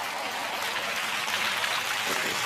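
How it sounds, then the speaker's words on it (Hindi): Dense, steady clapping from a crowd at a comedy show in a Mumbai pandal, a continuous broadband patter that holds at the same loudness throughout, with no voices over it. "ताली बजाओ।"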